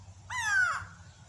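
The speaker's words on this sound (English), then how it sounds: "Excuse the grey go-away bird. He thought I was talking about him too." A grey go-away bird gives a single loud, nasal, drawn-out call up close, rising then sliding down over about half a second against a low background hum.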